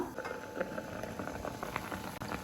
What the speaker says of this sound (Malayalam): നമ്മുടെ മാങ്ങയൊക്കെ നന്നായിട്ട് തിളച്ച് വന്നിട്ടുണ്ട്